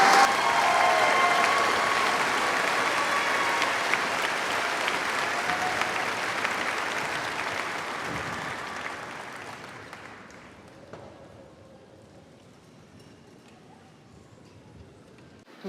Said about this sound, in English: Let's have one final round of applause for our new graduate degree graduates.